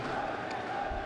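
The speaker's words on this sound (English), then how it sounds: "amidst that rousing applause" Applause and crowd noise fill an indoor handball arena, a broad steady roar of many spectators with no pauses, heard at a distance.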